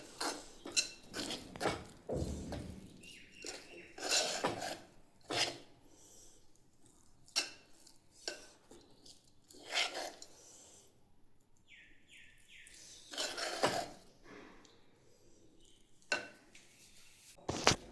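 A spoon scraping and clattering against a pan while a mixture is stirred off the flame and scooped onto another plate, giving irregular metallic clinks and taps close by, with no talking.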